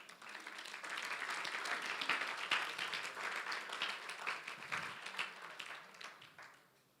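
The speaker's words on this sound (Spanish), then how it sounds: "dale un aplauso a Dios" Sustained congregational applause inside a church, dense and even, rolls on for about six seconds before tailing off, with no speech over it.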